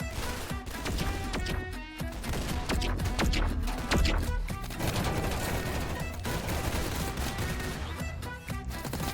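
Dense, continuous gunfire from the shooter video game Arsenal, played with sniper rifles: overlapping shots, impacts and crashes packed tightly together at a steady, loud level throughout, with no talking.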